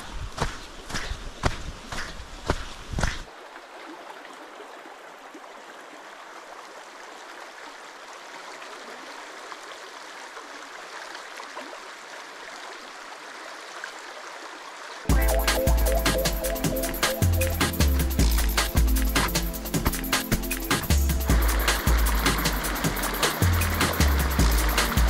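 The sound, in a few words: wading across a river on a waterfall hike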